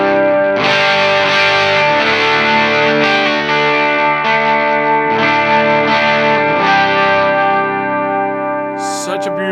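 An electric guitar runs through a Universal Audio UA Lion pedal's Marshall Super Lead emulation, its driven, overdriven chords ringing with heavy sustain. Several strummed chords are played loud and alone, and a short bright scrape comes near the end.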